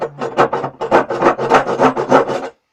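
A handsaw rasps through hard oak for a chisel handle, fast rhythmic back-and-forth strokes, loud and close, stopping abruptly at the end.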